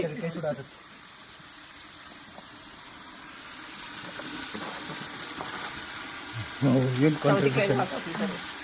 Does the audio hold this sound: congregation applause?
no